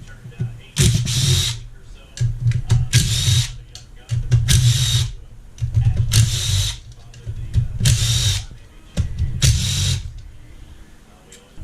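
A power tool whines in six or seven short bursts of a few seconds each, separated by quiet gaps, as fasteners come out of the engine case cover on a 2008 Honda CRF450 motorcycle, loud and close.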